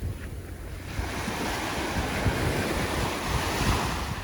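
Sea surf rolls steadily onto the shore by a house in Antique, Philippines, a continuous broad wash of breaking waves with wind rumbling across the microphone, close and fairly loud with no voices.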